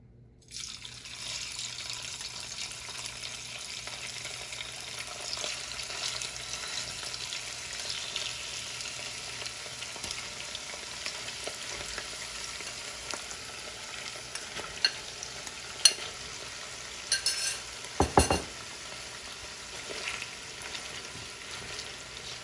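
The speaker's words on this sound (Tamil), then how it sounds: "இதில் வந்து சிக்கன் போட்டு ஃப்ரை பண்ண போகிறோம்" Chicken pieces fry in hot oil on a stove set to medium-high for a homemade chicken pickle, a continuous close sizzle with a few sharp clinks and stirring knocks near the end. No voices.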